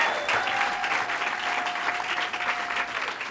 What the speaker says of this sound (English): Let's give Byron Brown a great round of applause